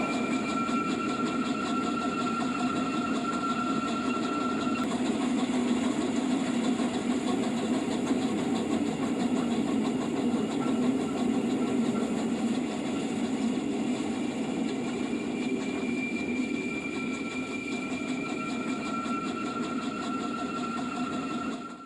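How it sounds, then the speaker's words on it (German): A Rhaetian Railway G 3/4 steam locomotive pulls its train across the Schmittentobel Viaduct on the Albula line. It gives a steady, continuous rumble and rolling drone with faint tonal hums that stays at an even level throughout. "Unser Zug, der soeben das Schmittentobel-Viadukt überquert, wird in Kürze sein Ziel erreichen"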